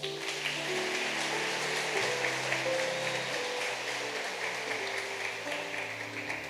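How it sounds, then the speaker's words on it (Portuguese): Congregation applause in church during a communion service, a soft, even wash of clapping heard at a distance with faint sustained tones beneath it. "Aplauda o Senhor por isso."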